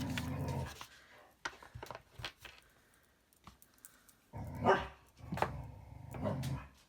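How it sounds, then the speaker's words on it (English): A dog barks in short bursts and pants between them, a little distant and fairly quiet, with irregular pauses. "That strange noise in the background is my dog."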